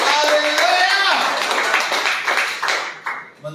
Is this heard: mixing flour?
no